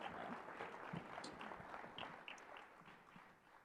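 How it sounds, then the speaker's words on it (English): Faint applause from an audience for panelists at an economics event, a quiet continuous patter of clapping with a few brief higher squeaks, gradually thinning toward the end. "But one more big round of applause for our panelists."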